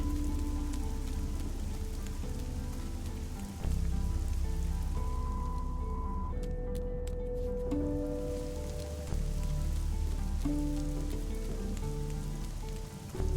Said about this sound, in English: I really love rain. It's nice and cold. And wet.